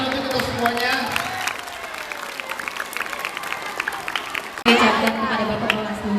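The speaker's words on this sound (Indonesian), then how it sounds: "Tepuk tangan untuk kita semuanya." Clapping from an audience at a school student-council election event rises and falls in a busy room, lighter in the middle stretch and surging louder again toward the end, mixed with crowd murmur.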